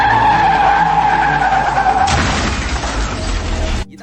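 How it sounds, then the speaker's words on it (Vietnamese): A heavy truck brakes hard and skids, a loud sustained tyre squeal with a steady screeching tone that breaks into a rough, noisy scrape midway before cutting off abruptly near the end. "Khi xe tải phanh gấp,"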